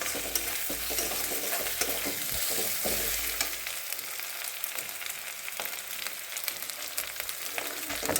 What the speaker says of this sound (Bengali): এটাকে এখন একটু তেলে আমি ভেজে নেব।